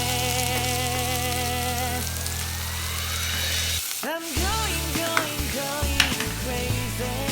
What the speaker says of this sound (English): now I'm adding my onions to stir fry both of them